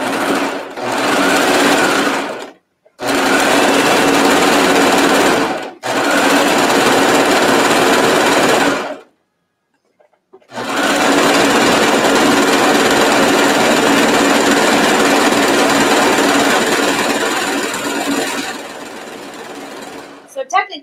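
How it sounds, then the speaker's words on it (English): Serger sewing machine stitching the inside leg seam of pajama pants: loud, steady motor whir with rapid stitching chatter in several long bursts separated by short pauses, close up and without talk. "I'm just going to do the rest with the serger"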